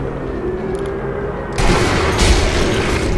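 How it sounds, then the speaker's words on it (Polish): Sniper Elite V2 gunfire, a low steady rumble breaking into a louder burst of shots and booms partway through, with no talking. "Spójrzmy, gdzie padają strzały."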